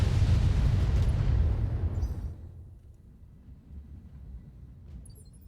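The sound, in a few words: missile volley explosions in BattleTech video game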